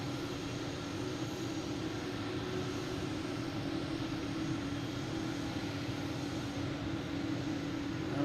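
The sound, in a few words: Etihad Boeing 747 jet airliner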